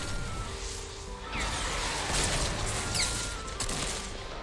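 Gunfire and crashing impacts fill a Fortnite match, with a loud stretch of overlapping bursts and whooshes in the middle and sharper cracks near the end, under no talk.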